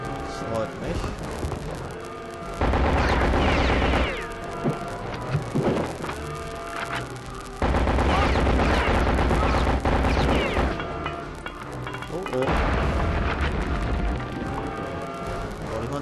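Gunfire and explosions from the World War II shooter game Return to Castle Wolfenstein, loud bursts of shots and blasts in several waves over a continuous game soundtrack, with a voice talking now and then.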